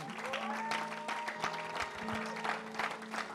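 A church congregation applauds during a worship service, with steady sustained clapping and some crowd noise filling the whole stretch.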